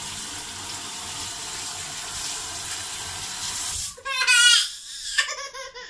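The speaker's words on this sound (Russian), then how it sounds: "Промываем рыбу." Water runs steadily from a tap as a fish is rinsed under it, a continuous close hiss that cuts off partway, followed by brief splashes and handling noises.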